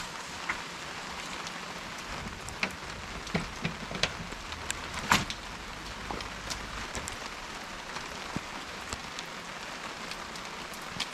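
Steady rain falling outside a camper van, with a continuous wash of drops and scattered sharper drips and taps on nearby surfaces, fairly close, with no talking.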